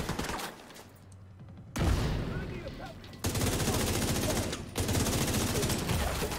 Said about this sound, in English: He's gonna throw a nade at you.